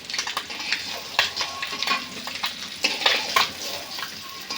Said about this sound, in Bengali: আমার ডিম ভাজা হয়ে গেছে, একে একে তুলে নেব।